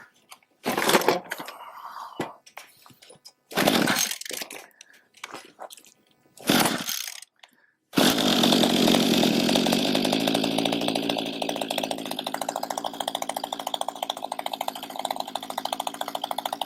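A Mantis tiller's small gas engine starts at half choke after a few short pull-start bursts, then settles into a loud, steady, buzzing two-stroke run close by.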